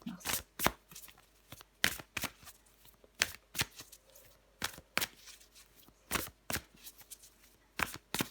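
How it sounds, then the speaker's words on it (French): Tarot cards are shuffled and drawn by hand, giving a quick run of crisp riffling bursts and soft slaps at an uneven rhythm, quiet and close, with no talking. "Je prends encore une carte pour vous, les béliers."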